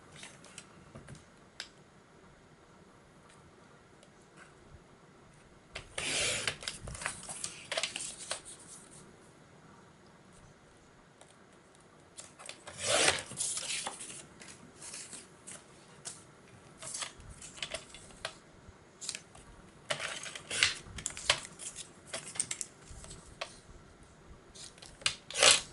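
A paper trimmer slices through paper in a few short, crisp bursts, separated by quiet handling noises close by.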